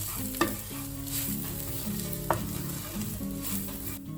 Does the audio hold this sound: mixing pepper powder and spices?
yes